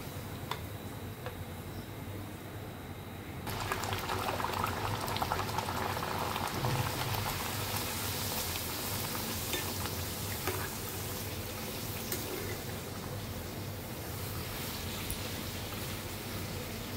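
Palm fruit luchi fry in hot oil, a dense steady bubbling sizzle that swells louder as the puri goes in and keeps fizzing continuously, close up with no talk.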